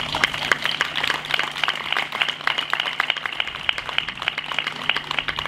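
Crowd applause at an outdoor peace and freedom demonstration in Fulda, a steady, moderately distant rattle of many hands clapping throughout, with a low hum underneath.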